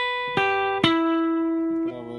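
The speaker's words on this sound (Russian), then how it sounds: "фраза в конце этой композиции клавишная звучит примерно так" The slow keyboard phrase from the ending of a song, played as a few slow, sustained electric guitar notes ringing out one after another, each struck clearly and left to decay, with no talking.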